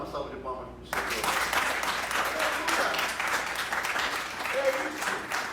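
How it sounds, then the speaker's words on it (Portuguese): A church congregation breaks into sustained applause after a brief spoken moment, the clapping dense and steady for several seconds at moderate distance. "Dá uma salva de palmas para o Senhor."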